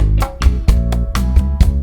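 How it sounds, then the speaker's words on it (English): A loud, full music loop with punchy low drum hits on a steady beat and sustained tonal layers, processed with the JMGSound Expanse 3D spatial plugin on every track. "Here's this loop with an instance of Expanse 3D on every track,"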